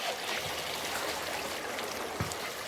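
Water flows steadily through a gold-prospecting sluice box at home, making a continuous close rushing, splashing wash with a couple of small knocks.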